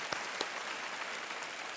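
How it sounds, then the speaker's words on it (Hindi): Studio audience applause on a televised Hindi quiz show, Kaun Banega Crorepati, a steady wash of clapping at moderate level with a couple of sharper claps standing out, no talk over it. "एक बार फिर तालियों के साथ आपका अभिनंदन"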